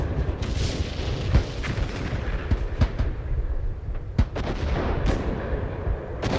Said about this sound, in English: So these are their artillery guns firing.